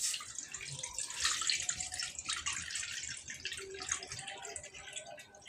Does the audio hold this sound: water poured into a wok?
yes